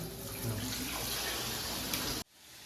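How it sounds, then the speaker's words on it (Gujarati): Water sprays from a hose onto a dusty window in a steady rushing hiss for about two seconds, then cuts off abruptly. "પાઇપ લગાવી અને બારી સાફ કરીએ છીએ"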